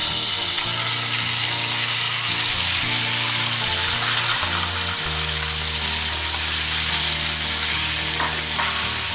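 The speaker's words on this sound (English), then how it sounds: "Now on high flame, I'll be continuously stirring this for 5 to 7 minutes." Marinated mutton for Bengali mutton curry fries on high flame, a loud, continuous close-up sizzle and hiss with steady stirring and a low background hum throughout.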